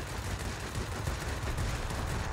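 Cannons on a Japanese A6M2 fighter firing in World of Warplanes, a dense, continuous stream of rapid gunfire bursts under engine noise, loud and close.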